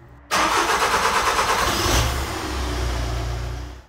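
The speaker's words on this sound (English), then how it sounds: "start the engine, let it run warm a little bit" A VW Caddy engine cranks and catches with an abrupt start, revs up briefly, then drops to a steady close idle.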